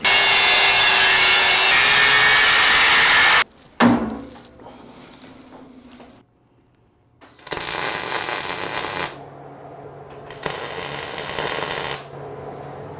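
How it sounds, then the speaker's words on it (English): A cutoff wheel on an angle grinder slicing into an old steel railroad spike, a loud steady grinding screech for several seconds, then two more shorter cutting bursts separated by quiet pauses. "Switch this out to the cutoff wheel."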